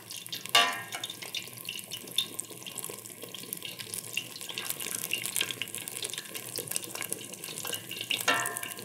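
Tempura battered garden vegetables and nasturtiums frying in hot oil, a continuous moderate bubbling sizzle with a few sharp clatters near the start and end, no talking.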